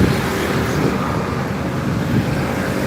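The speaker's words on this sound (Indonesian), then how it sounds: "Kita rekam truk tangki Pertamina." A Pertamina tanker truck drives past on a busy roadway, a steady, loud low engine roar and tire rumble holding throughout amid traffic noise.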